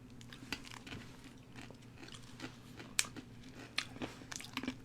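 Close crunching as someone chews small crisp strawberry-flavoured candy pearls, a series of sharp brittle cracks and bites at uneven intervals over quiet background, without talk.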